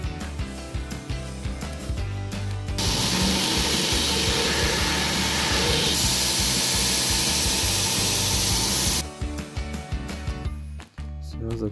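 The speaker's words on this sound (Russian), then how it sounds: "Все, закончили шлифовать." A harsh, steady grinding hiss of a power sander working on a Yakut knife blade, starting and stopping, close and loud.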